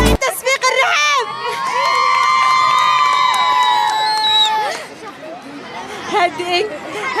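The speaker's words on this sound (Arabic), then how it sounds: "تصفيق الرحاب." A mall audience at an Eid contest show cheers and shouts loudly for a contestant, with children's voices and whoops rising into a sustained roar, then dropping back to chatter.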